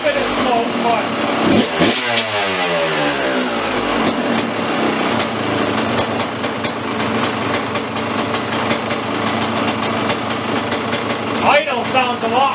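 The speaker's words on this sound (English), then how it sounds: "idle sounds a lot better. That's no choke cold start." A KTM dirt bike engine idles steadily after a cold start without choke, its rapid firing loud and close throughout, with a brief rev near the start and voices talking over it.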